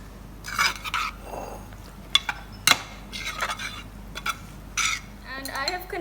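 A spoon stirs chana chaat with tomatoes and yogurt in a pot, making scattered scraping clinks and sharp metallic knocks against the rim at an uneven pace, fairly close and moderately quiet.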